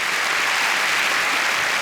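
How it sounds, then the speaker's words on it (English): Studio audience applauding at a comedy show interview, a steady dense round of clapping filling the whole stretch without speech. "give him a round of applause"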